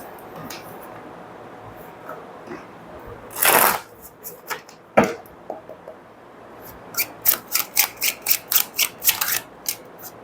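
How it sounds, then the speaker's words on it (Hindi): Tarot cards shuffled by hand: a brief riffle burst, scattered slaps, then a rapid run of about a dozen crisp card snaps close up, with no talking. "आपके टैरो कार्ड्स भी देख लेते हैं।"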